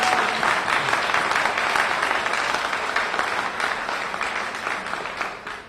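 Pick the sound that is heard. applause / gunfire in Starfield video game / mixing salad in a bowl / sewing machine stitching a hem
applause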